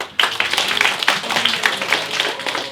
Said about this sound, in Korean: 주인공 박수!